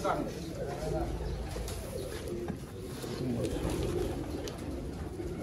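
Soft, low cooing of a pigeon repeating steadily, close by, with faint background noise throughout.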